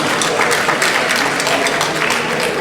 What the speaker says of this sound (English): We clap for you.